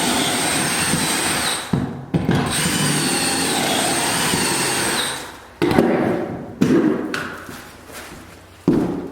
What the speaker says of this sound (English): I got my pocket hole drilled now on both sides